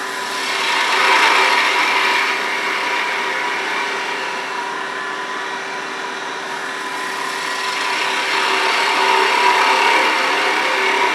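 Wood spinning on a lathe as a skew chisel makes an anchor bevel cut while turning a chess rook, a loud continuous whirring hiss with a steady hum, close and unbroken for the whole stretch, no talk.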